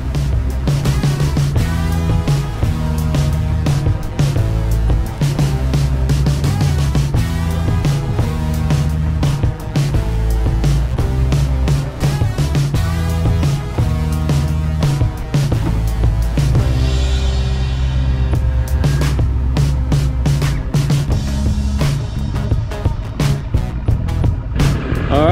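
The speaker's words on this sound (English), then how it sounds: "I love the high whine from the two-stroke outboard." A Mercury two-stroke outboard motor drives a boat, giving a loud, steady high-pitched whine with a deep droning undertone that holds for the whole stretch, close by and with no talk over it.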